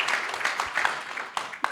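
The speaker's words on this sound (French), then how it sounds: "On peut l'applaudir." A conference audience at a round table on regenerative agriculture applauds, a dense, fairly faint wash of many hands clapping steadily throughout, with a few sharper claps standing out.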